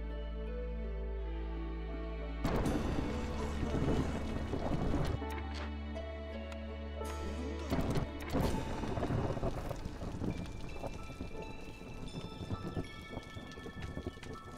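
Rain and rolling thunder from a storm in the video game Against The Storm, a steady downpour with loud thunder crashes breaking in at intervals and tonal game music layered over it, with no talking.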